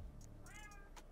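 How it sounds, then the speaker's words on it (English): A cat meows once, a clear rising-and-falling cry of about half a second, heard close and fairly loud over a low steady background hum. "I hear you meowing nonstop"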